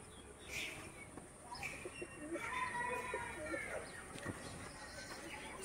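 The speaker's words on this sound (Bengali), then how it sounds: "দু চোখ একদম কালো পায়রা" Soft pigeon coos sound nearby over a faint background hum, with a few low murmurs mixed in.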